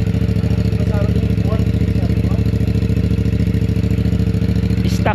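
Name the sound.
CFMOTO 450CLC motorcycle engine and exhaust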